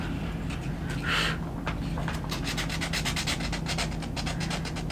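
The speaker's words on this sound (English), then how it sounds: "we will take our sander and do just a little bit around the edges" An electric sander rubs along the edges of a painted wooden sign in a series of short, rhythmic scraping passes up close, with a steady hum underneath.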